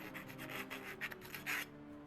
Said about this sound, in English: Just file it out.